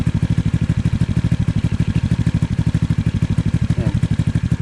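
A motorcycle fitted with a silencer runs close by with a fast, regular chugging pulse and rough, popping exhaust beats, loud and continuous throughout with no talking.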